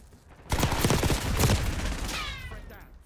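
A submachine gun fires a long rapid burst in a military shooter video game set on a base in Iraq, loud and close, the rattle running about two seconds before trailing off.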